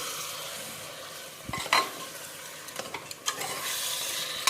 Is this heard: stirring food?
yes